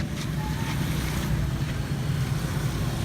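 Motorized tricycle traffic on a road in the Philippines, a steady low engine drone and rumble with wind noise over the microphone, continuous and moderately loud.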